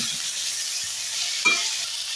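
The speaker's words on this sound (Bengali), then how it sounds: "এই সময় আমি মটরশুঁটিগুলো দিয়ে দিচ্ছি একসাথে, সব দিয়ে আবার একটু ভাজা করে দিচ্ছি।" Peas, ginger and green chilli frying in a pan for a vegetarian mixed vegetable curry, giving a steady soft sizzle with a brief stirring scrape partway through, no talking.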